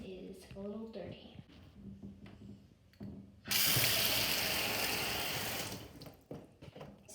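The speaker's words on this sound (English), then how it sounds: "I am just going to fill up the bathtub" A person speaks briefly, then a bathtub tap opens and water gushes loudly into the tub, a steady hissing, splashing rush that lasts several seconds before cutting back to quieter sounds.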